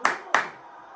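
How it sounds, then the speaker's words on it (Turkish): Two sharp hand claps about a third of a second apart, close and crisp, with nothing after them but faint room noise. "Alkış. Alkış. Harika oynuyorsunuz."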